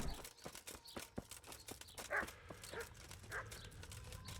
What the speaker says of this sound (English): What do I do about that dog?